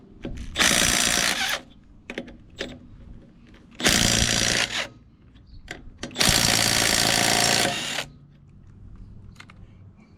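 A Milwaukee 3/8-inch right-angle impact wrench with an extension and 13/16 socket backs off trailer lug nuts in three loud hammering bursts, each one to two seconds long, separated by short quiet gaps with faint handling clicks.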